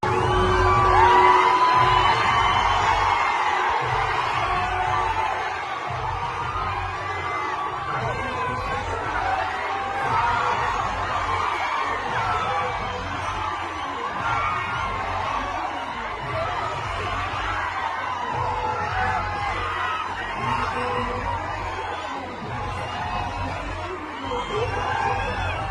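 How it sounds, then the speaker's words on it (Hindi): Huge crowd at a Rahul Gandhi rally in Telangana, a dense roar of cheering, whooping and chatter that stays loud and continuous, with voices heard throughout. "लाखों की भीड़ इकट्ठा हो रही है।"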